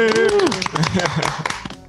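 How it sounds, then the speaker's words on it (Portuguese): A small podcast audience applauds to welcome a guest, with scattered, quick claps running under a cheering, talking voice for a couple of seconds. "Palmas para ela."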